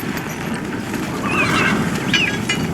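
Horses whinny twice over a busy outdoor bed of rumble and hoof noise, the neighs moderately near but partly masked.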